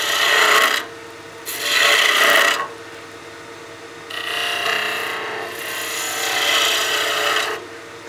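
A skew chisel cutting wood on a lathe while turning a birdhouse ornament gives a steady raspy scraping hiss that comes in several passes of a second or more with quieter gaps, close up and with no talk.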